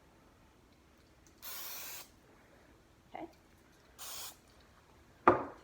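A spray can hisses onto a hand in three short, quiet bursts separated by pauses, with a brief word spoken between them and a sharper sound at the end.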